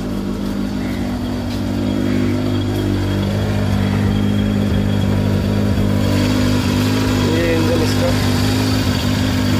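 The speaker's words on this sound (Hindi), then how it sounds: "मैं आपको इंजन के साउंड दिखाता हूँ।" A 2002 Hyundai Santro Zip Plus petrol hatchback idles after sitting five months, a steady low engine hum with a faint rhythmic throb, close and continuous, with someone talking over it.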